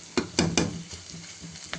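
Spicy dried Bombay duck (loitta shutki) is stir-fried with onion and garlic in a pan: a few quick scraping stirs, then softer strokes over a faint sizzle.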